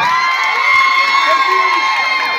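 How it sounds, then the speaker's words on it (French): Schoolchildren at a school group in Kamsar, Guinea, cheering and applauding loudly together as a crowd. Sustained high-pitched shouts and whoops carry on without a break through the whole stretch. "On applaudit fort."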